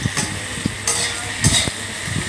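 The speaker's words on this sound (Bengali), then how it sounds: "এরপর কড়াইতে তেল গরম করে মেখে রাখা ঢেঁড়সগুলো হালকাভাবে ভেজে" Okra frying lightly in hot oil in a wok, a steady sizzle with intermittent scraping and stirring clatters of a utensil against the pan.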